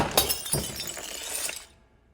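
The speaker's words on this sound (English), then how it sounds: "A gust of wind sends a family picture falling to the ground with a singular shard of glass falling in front of her." Glass from a family picture frame knocked over by a gust of wind shatters on the ground, a sharp crash followed by several smaller tinkling impacts that fade away after about a second and a half.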